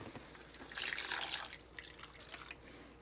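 Water pours from a tap or cup into a pot of simmering homemade Italian pasta sauce, a soft splashing gush swelling for about a second and then trailing off into faint drips, close and with no talking.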